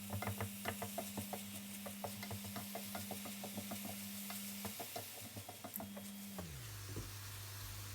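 Escalopes seasoned with paprika fry in a pan, a faint sizzle under rapid clicking stirs and a steady low mechanical hum that shifts pitch near the end.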